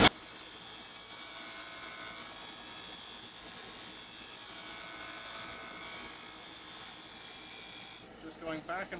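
A wood lathe hums steadily while a scraper works a chess knight, a continuous whine that cuts off near the end, followed by a person speaking.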